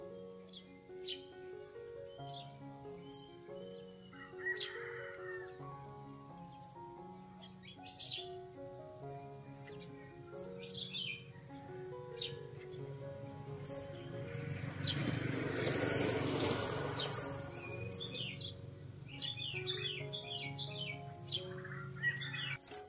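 A five-colour songbird offered for sale chirps and sings in repeated bright phrases throughout, with other caged birds calling around it and a noisy burst of background sound midway.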